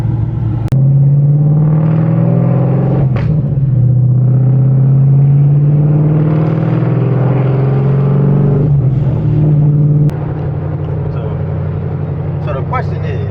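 Boosted 2011–2014 Ford Mustang GT V8 revving, heard from inside the car: a loud, steady low engine drone that swells and falls through several revs, with a sharp change near the end.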